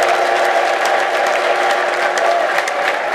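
A church congregation applauds together, a dense and steady wash of clapping that stays loud and even for the whole stretch, with no break or fade.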